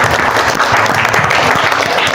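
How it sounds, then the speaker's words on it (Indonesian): Applause from a class of students in a classroom after a biology lesson presentation, dense steady clapping throughout, close and loud with no talk. "kasih aplaus dulu untuk"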